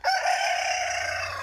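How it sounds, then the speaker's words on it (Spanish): A rooster crows once, a loud, close, sustained cock-a-doodle-doo at a farm in San Juan Mixtepec, Oaxaca, with no other sound around it. "Ahí está nuestro gallo que se metió por ahí."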